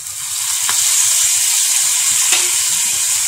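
Capsicum frying with soy sauce in a hot pan gives off a steady broadband sizzle, with low scraping and stirring taps along the bottom and no voices.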